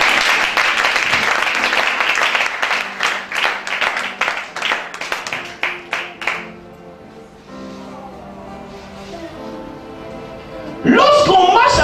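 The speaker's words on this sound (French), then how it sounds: "Est-ce qu'on peut acclamer le Seigneur?" A church congregation claps in rhythm to acclaim the Lord, with a fairly close burst of steady beats that fades after several seconds. Voices and tonal sounds follow.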